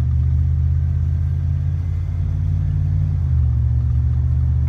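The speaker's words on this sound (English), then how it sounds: "Yeah, my truck's really loud." A loud truck engine droning steadily while driving, a deep continuous rumble close up with a slight shift in pitch partway through, and no speech.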